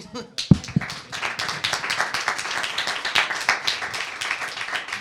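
A crowd applauds steadily, many hands clapping together at a moderate distance, with a few voices faintly mixed in.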